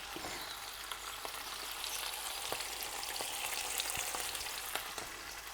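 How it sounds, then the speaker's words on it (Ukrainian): Hot oil heated in a pan for frying chicken, a steady bright hiss with scattered small pops and crackles, close and even throughout, with no one talking. "Нагрілась, зараз перевіримо. Шкварчить."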